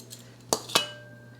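Metal teaspoons clink as they are picked up, two bright close chimes about a quarter second apart with a short ringing tail, in an otherwise quiet kitchen.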